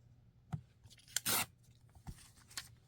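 Scissors trimming a magazine advertisement cutout, a few close, quiet paper snips and rustles with one louder crisp slice midway, no talking.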